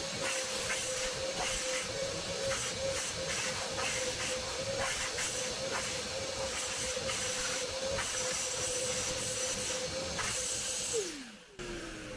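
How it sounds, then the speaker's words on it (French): A steady, loud hissing suction roar comes from an injector extractor vacuuming the leather interior of a car, with a constant whine running underneath and the motor winding down at the very end. "je vais aspirer tout ça avec mon injecteur extracteur"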